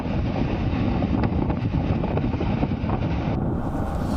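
Strong winds from Cyclone Yaas, reaching about 150–160 km/h, roar and buffet the microphone without a break over crashing high sea waves. The sound is loud and dense, and no voices can be heard.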